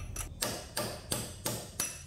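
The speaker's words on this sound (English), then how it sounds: "Punch and a hammer and knock that little sucker in to lock it in place." Hammer blows drive a punch to lock a Chevy Aveo CV axle in place, five sharp metallic strikes at an even rhythm about a third of a second apart, close and loud with no talk.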